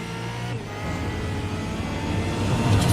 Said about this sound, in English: You can literally hear the car, and there is a tyre down for that car.